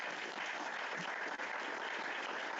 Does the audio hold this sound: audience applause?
yes